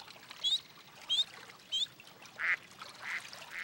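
Faint, scattered duck quacks over a soft watery background in a cartoon, a few short calls spaced apart with quieter murmuring between them.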